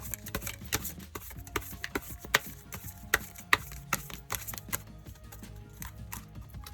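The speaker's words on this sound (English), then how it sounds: "So let us get a tarot message from the Universal Waite Tarot deck. I'll shuffle first." Universal Waite tarot cards being shuffled by hand, a quiet close run of irregular papery flicks and soft taps with no voice.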